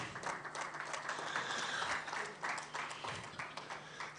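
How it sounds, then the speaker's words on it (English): Audience applause at the HiFL 2022 draw event, steady, moderately distant clapping that holds for the whole stretch, fairly quiet, with no clear speech over it. "Please, we can give him a round of applause."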